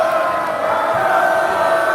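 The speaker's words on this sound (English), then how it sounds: "Let me assure you, this crowd is not saying boo." A large home crowd at a Division 2 high school football championship game holds a loud, sustained, drawn-out chant that fills the air evenly and steadily for the whole stretch.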